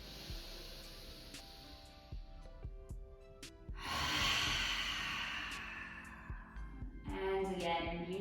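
A slow deep breath during a yoga session, a long airy exhale swelling up and fading, close and soft, with gentle instruction spoken in the background and faint music.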